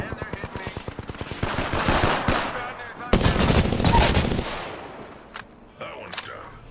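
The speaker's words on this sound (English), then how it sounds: "Shots fired." Rapid, loud automatic gunfire in Apex Legends on PS4 Pro, a fast rattling burst followed by another heavy volley that trails off, with a few scattered shots afterward.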